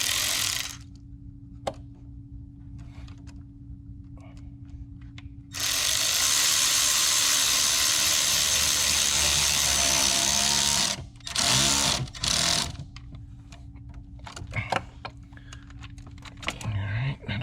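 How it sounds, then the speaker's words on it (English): Turbo hose clamp being tightened on a 2019-2023 Chevy Silverado 2.7L, with a ratcheting tool whirring in bursts, a long steady run in the middle and shorter clicks toward the end, close up. "we're going to tighten up that turbo hose first."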